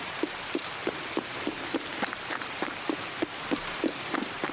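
Steady rain patters inside a building in a first-person shooter raid, with regular soft thudding footsteps running beneath it; a close, continuous hiss throughout.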